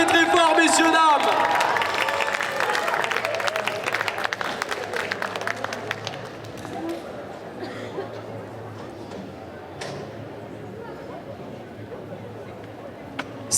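Audience at a cosplay contest during an otaku festival applauding loudly, then the clapping thins into crowd chatter and scattered claps, with a voice speaking over it early on.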